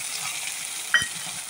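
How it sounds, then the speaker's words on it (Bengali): Ginger and garlic paste fry with onions in a pan, a brief, even sizzle with a single soft clink midway and no talking. "এবার পেঁয়াজের মধ্যে দিলাম আদা বাটা আর রসুন বাটা।"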